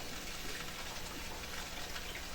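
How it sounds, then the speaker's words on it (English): Water pouring steadily into a pot of crawfish étouffée, a continuous broadband gush with no pauses and no talk. "start with a half cup more of the liquid, the water."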